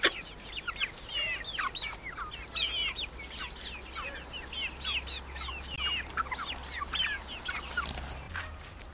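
Backyard chickens on a southern Russian homestead cluck and chatter in steady, overlapping bursts, moderately close, with no talk over them.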